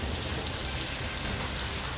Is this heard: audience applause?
no